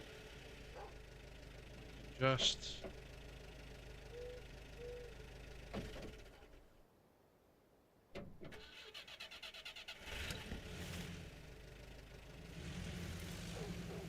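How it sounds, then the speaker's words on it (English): A truck engine idles and revs in SnowRunner, a low mechanical drone running through most of the clip with a sharp burst early on, a brief quiet gap midway, and someone speaking now and then. "keep the engine running."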